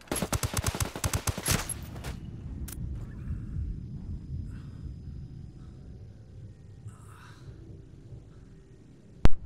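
Rapid automatic gunfire rattles loud and close in the Ghost Recon video game, a dense burst of shots lasting about two seconds, then fading into a rumbling battlefield ambience with scattered distant noises and a final sharp crack.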